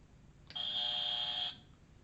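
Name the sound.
buzzer from a TV talent show on M6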